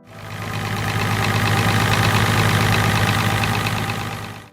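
An International Harvester 656 tractor engine idles steadily at close range, a loud, even diesel rumble with a knocking texture that holds constant before fading at the end.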